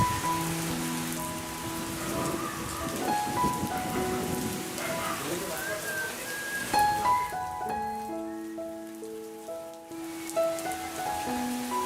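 Rain patters steadily on an English-style gazebo in a park, a close, even hiss of drops on the roof while a voice talks and music-like tones sound over it.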